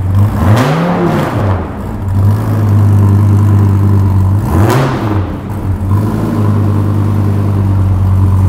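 A sequential-gearbox muscle car engine at full throttle, loud and close, roars at a steady high pitch with two quick shift dips where the revs fall and climb again.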